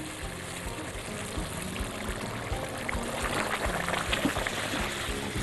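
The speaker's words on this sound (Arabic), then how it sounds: "نحط بقى شويه ميه كمان." Water is poured into a pot of okra for a tagine, a steady close trickle and splash that swells slightly over the pot's simmering hiss, with no talking.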